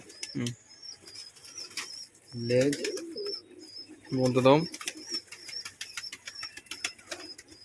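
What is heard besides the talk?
pet pigeons in a cage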